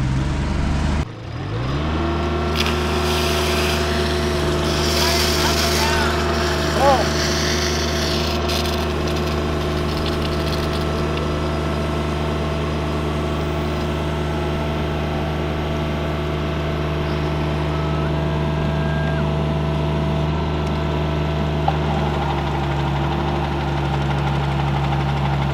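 A horizontal directional drill rig's engine runs steadily close by, a loud low droning hum with strong tonal harmonics that starts up abruptly and holds at an even level, with no talking.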